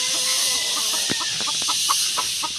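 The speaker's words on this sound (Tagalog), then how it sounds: "May manukan po dito." Chickens and roosters at a rural coop housing fighting cocks cluck and call steadily in short, close bursts, with one louder squawk, over a constant high-pitched hiss of insects.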